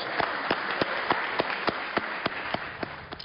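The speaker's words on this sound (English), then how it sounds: "Let's give the majority leader a great round of applause." State lawmakers in a legislative chamber applaud the majority leader after a bill passes, scattered distinct claps ringing out in a fairly regular pattern, moderately close and without speech over them.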